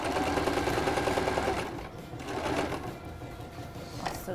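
A sewing machine runs steadily in a workshop with a dense mechanical whir, loud and close at first, then easing slightly and continuing unevenly, with no talking.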